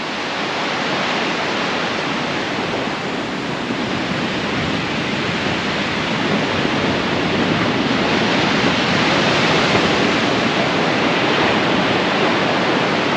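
Big Pacific Ocean waves crash and roar continuously, a loud, dense wash of surf filling the whole stretch with steady broadband rumble and hiss, no voices.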